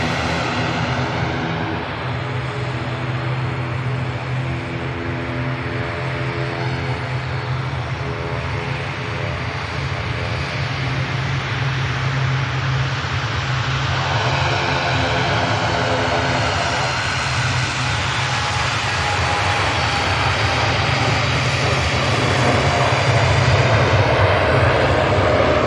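TUI airliner takes off and climbs at Manchester Airport with a loud, sustained engine roar and shifting whine, building steadily over the long run and climb-out.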